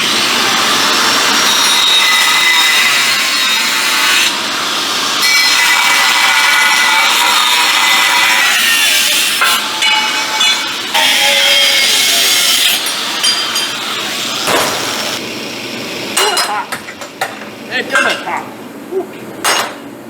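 Metal plates for the fuel tank straps of a 1940 Chevy coupe are cut with a loud, high-pitched screeching whine that holds steady, then breaks into intermittent bursts and clanks as the cut finishes.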